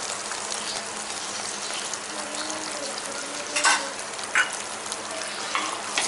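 Spices for a restaurant-style paneer masala gravy sizzling and frying in a pan while being stirred, a steady close hiss with a few louder scraping stir strokes, no talking.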